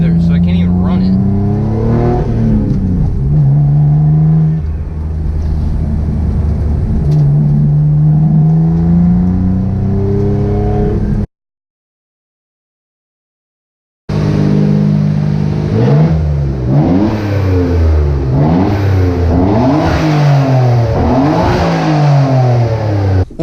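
Restored Mitsubishi 3000GT VR4 engine revving while driving on its first real drive, rising and falling in pitch with repeated acceleration sweeps, loud and close, with a brief cut to silence midway.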